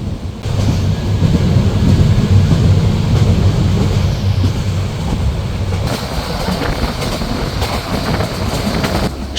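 Parjotak Express train running from Dhaka toward Cox's Bazar, a loud continuous low rumble of wheels on rail with rattling carriage noise and steady clatter throughout, heard from inside the moving train.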